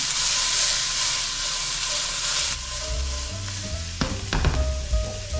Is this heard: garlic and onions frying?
yes